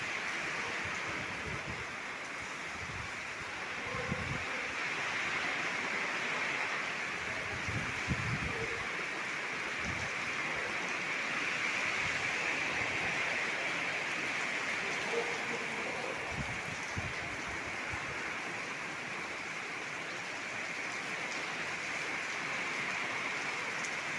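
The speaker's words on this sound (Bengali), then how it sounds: "এখানে দেখো বৃষ্টি শুরু হয়ে গেল" Rain falls outdoors beside a medical college in Bangalore, a steady soft hiss of drops with faint scattered knocks and low rumbles, fairly quiet throughout.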